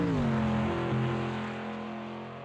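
A Mercedes AMG race car engine in the racing game Automobilista 2 drones with a steady, throaty note that dips as the revs shift, heard alone with the sound slowly fading.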